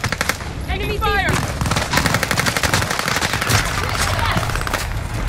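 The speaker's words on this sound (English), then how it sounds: "Enemy fire!" Enemy gunfire in a video game, rapid automatic bursts rattling almost nonstop and close, with a player's voice briefly calling out over the shooting.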